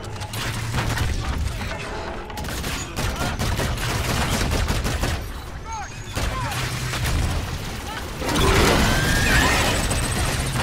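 Dense, rapid gunfire and booms rattle through a chaotic battle scene in Call of Duty: Infinite Warfare, bursts overlapping continuously, with muffled voices mixed into the noise.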